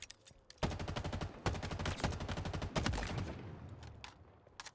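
Rapid automatic gunfire in the Halo Infinite video game: long, dense bursts of rattling shots with brief pauses between them, loud and close.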